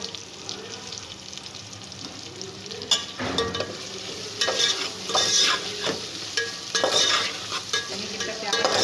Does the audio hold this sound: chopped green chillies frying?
yes